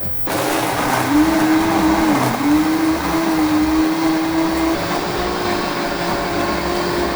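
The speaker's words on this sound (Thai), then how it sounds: "ใส่แล้วเราปั่นรวมกันค่ะ" Blender whirring steadily as it blends a mixed berry shake with whipped cream, a loud continuous motor drone with a slight pitch dip partway through, running alone without talk.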